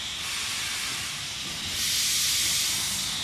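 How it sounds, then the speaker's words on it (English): A steam locomotive on an Indian railway lets off a steady, loud hiss of escaping steam that swells louder partway through and continues alone without any voices. "The steam locomotive looks fascinating, it sounds fascinating."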